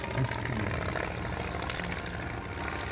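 A Ryan monoplane sport aircraft's engine drones steadily throughout, loud and continuous, with a propeller-driven rumble holding a constant level and no clear speech over it.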